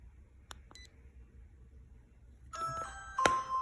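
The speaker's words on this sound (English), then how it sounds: "Hopefully you're able to hear the small beep." A small bootleg Ring-style doorbell gives a short, clear electronic beep close to the recorder, after a few faint clicks and a brief burst of handling noise.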